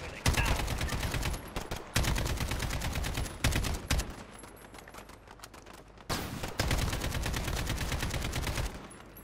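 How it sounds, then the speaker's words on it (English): Rapid AK rifle gunfire in a Call of Duty Modern Warfare story mission, loud sustained automatic bursts separated by brief pauses, with game music and effects underneath. "I swear that the AK has a massive kick to it."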